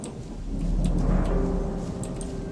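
Steady rain with a low rumble of thunder in the video game Gothic, a constant wash of falling water that swells slightly in the middle, with no voices.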